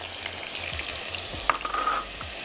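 Onion frying in olive oil gives a bright, continuous sizzle with small crackles and a brief clink near the middle, no talking.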